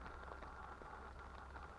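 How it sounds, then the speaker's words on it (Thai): Steady hiss of rain falling outdoors beside the Mekong River at Chiang Khan, Thailand, a continuous soft wash with faint scattered drops and no voices. "ตอนนี้ฝนก็ยังตกอยู่นะครับ คือฝนตกตั้งแต่เช้านะครับ"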